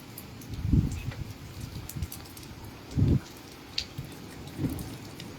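Rain falls steadily in the hills of Reasi, a soft continuous patter with a few louder low rumbles of distant thunder spaced through the clip, no talk.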